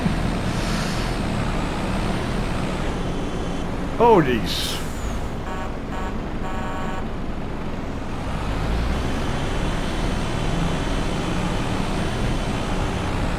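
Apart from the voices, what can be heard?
road traffic of trucks and cars in video game Farming Simulator 25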